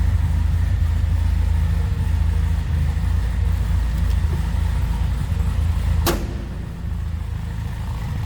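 A 1960 Austin-Healey Sprite with a 1275cc inline four-cylinder engine idles close by, a loud, steady low rumble that dips slightly after a brief sharp click near the end.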